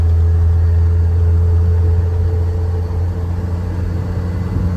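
A Chevrolet squarebody pickup truck being driven, its engine giving a steady low rumble with a constant drone inside the cab, loud and close throughout with no talk.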